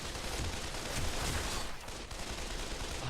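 Gunfire in the VR shooter Pavlov during a team match, with a player firing over a teammate's shoulder: dense rapid bursts of shots blending into a continuous crackling barrage, loud and close, briefly dipping midway.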